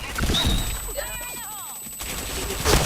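Gunfire in the PointBlank video game crackles in a quick burst of shots, followed by whooshing in-game effects and another sharp burst at the end, with a player's voice partly audible over it.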